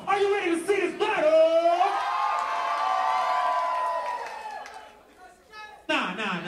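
Crowd cheering, whooping and yelling at a dance battle exhibition, loud and sustained with bright shouted tones, fading briefly before a fresh burst of cheers at the end.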